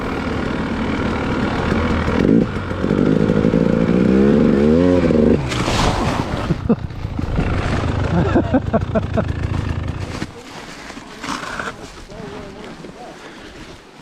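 A KTM dirt bike engine riding through woods, its harmonic drone climbing and falling with the throttle before cutting to a quieter idle, with wind buffeting the microphone throughout.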